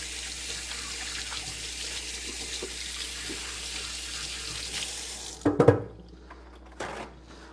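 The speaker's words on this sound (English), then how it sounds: "Let me just rinse off my hands" Tap water runs steadily into a sink as hands are rinsed, a continuous close splashing hiss that cuts off abruptly, followed by a few brief knocks and handling sounds.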